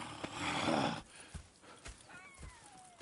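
Horses in the Red Dead Redemption 2 video game, a burst of hooves and rustling followed by quieter shuffles and a faint whinny-like tone, low and distant in the game mix.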